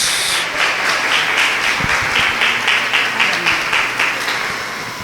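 A women's church congregation claps steadily to welcome a speaker to the front, a sustained, fairly loud round of applause with a few distinct nearer claps standing out in the dense crowd sound.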